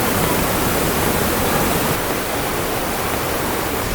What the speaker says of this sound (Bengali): আর এই জায়গাতে জলের স্রোতটা খালি দেখো